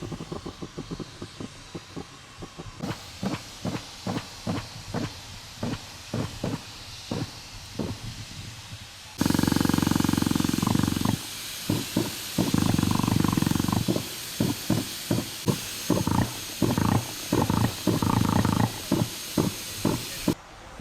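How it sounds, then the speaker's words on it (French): A hot air balloon gas burner roars in long loud bursts during the 2015 Gordon Bennett Cup race, with rhythmic puffing and popping pulses throughout; the roar grows heavier and more constant partway through. "orchestré par les bruits incongrus, de ronronnements et pétarades, des gaz parcourant les tuyaux"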